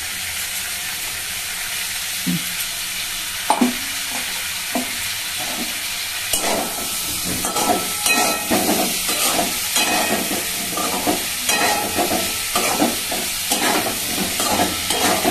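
Onion-garlic paste and dry chillies sizzle in a pan for a prawn curry while a spoon scrapes and stirs in repeated rhythmic strokes, growing busier in the second half over a constant hiss.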